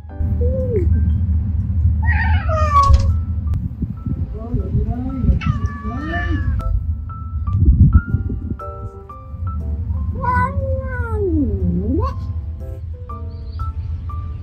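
Several stray cats meow repeatedly in a snow-covered field, some close and some farther off, over a low rumbling background.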